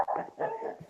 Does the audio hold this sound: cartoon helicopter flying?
no